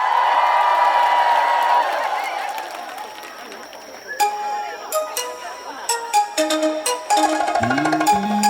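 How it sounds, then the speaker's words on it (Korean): A concert crowd at the Goseong Hope Dream Concert applauds and cheers for six male dancers, a dense wash of clapping that fades over a few seconds before music with a voice begins. "지금 나온 우리 6명의 댄서 남자분들을 위해서 큰 박수 부탁드리겠습니다"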